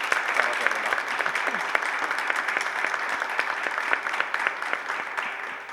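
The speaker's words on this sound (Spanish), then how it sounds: "un fuerte aplauso de bienvenida para ti" A welcoming round of applause from an audience at a book talk, dense steady clapping from a crowd that holds strong for several seconds before easing off at the end.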